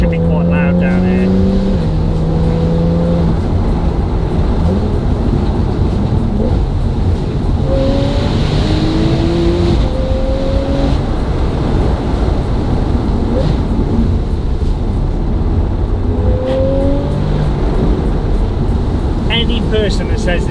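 A Porsche Targa 4 GTS drives loudly along narrow country lanes, its engine droning and rising in gear-by-gear pulls for about twenty seconds, with a voice talking over part of it.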